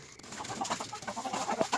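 Chickens cluck on a farm in a series of short, soft, irregular calls over faint outdoor background noise.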